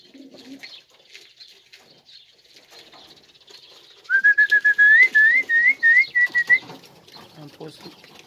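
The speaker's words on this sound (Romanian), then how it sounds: "de mâncare de seară la porumbei" Quiet outdoor ambience on a farm with faint chirps, then a pigeon coos at evening feeding in a clear rolling series of warbling notes, close and fairly loud.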